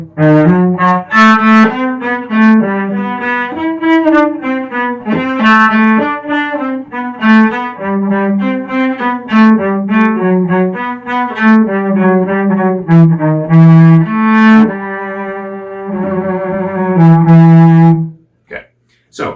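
A solo cello plays Marcello's Allegro from the last beat of bar 21 into the next section, a quick, continuous run of bowed notes, loud and close, ending with a brief pause and a final short sound.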